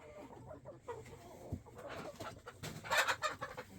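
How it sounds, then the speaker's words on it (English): Backyard chickens settling in for bedtime give soft, scattered clucks and murmurs close by, rising into a busier burst of higher squawks toward the end, with no talk over them. "Good chicken. Good chicken."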